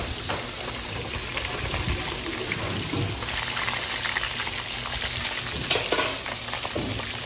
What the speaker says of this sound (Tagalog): prito ang galunggong